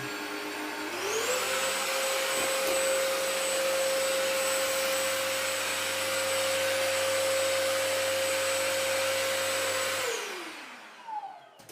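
A Kenmore DS1030 vacuum cleaner runs loud and close while picking up spilled oatmeal and flour, a steady high motor whine that ramps up at the start, holds for about nine seconds, then winds down.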